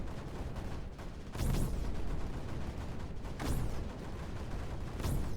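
Snipers in the strategy game Creeper World 4 fire in repeated bursts, three sharp loud shots with descending whooshing tails spaced about two seconds apart over a dense, rumbling battle backdrop, with no talking.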